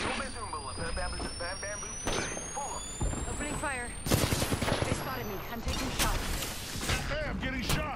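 Gunfire in the battle royale shooter Apex Legends: rapid automatic bursts and sharp single shots, loud and near, mixed with impacts and game voice lines, while a player talks over the action.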